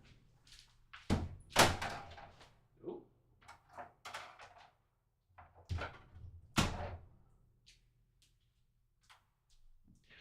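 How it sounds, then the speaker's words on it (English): A closet door swings shut indoors with a couple of solid thunks and clatters, sharp and close, followed by quieter handling noises and faint shuffling in a small room. "I got my closet door open, so I just gotta close it real quick."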